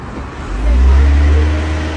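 A car engine revs with a deep, loud low rumble that swells and holds as the driver backs up to ram another car, heard close and continuous.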